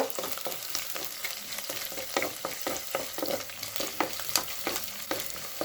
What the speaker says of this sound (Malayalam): അതിലേക്ക് നമുക്ക് ഇഞ്ചി വെളുത്തുള്ളി ഇട്ട് കൊടുക്കാം.